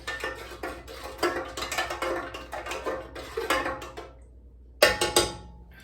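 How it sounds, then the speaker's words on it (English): Bread ingredients, including sugar, being stirred in a bowl for a bread machine loaf: a close run of clinking, scraping spoon strokes against the bowl, a brief pause, then a few more sharp stirs. "I'm gonna give that a little stir"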